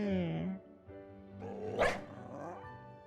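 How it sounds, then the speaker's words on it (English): Deep barks of the Mabosstiff in Pokemon Scarlet, a couple of low woofs with a growly edge heard fairly close, mixed with game sounds and no talk. "Oh, that's a good, like, deep dog sound."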